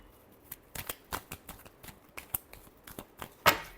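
Tarot cards being shuffled by hand, a run of soft papery riffles and taps in uneven bursts, close by and fairly quiet, ending on one louder flutter.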